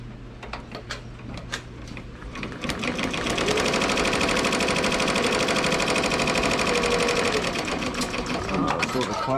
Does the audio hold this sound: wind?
no